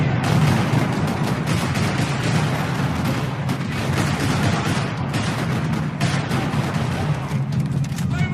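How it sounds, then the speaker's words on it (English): Dense, continuous gunfire in a parking lot from the video game Max Payne 3 rattles nonstop, rapid automatic bursts layered over booming shots, loud and chaotic with no pauses. "Another parking lot rattling with gunfire."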